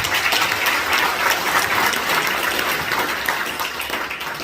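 Loud applause from a large crowd, a dense, steady clapping that fills the room and tapers slightly at the end.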